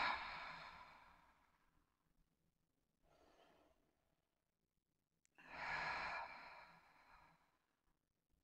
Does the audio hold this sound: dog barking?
no